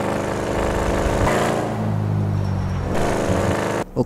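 A car driven in GTA 5, its engine droning loudly with shifting pitch as it revs and eases off, ending in an abrupt cut and a short thump.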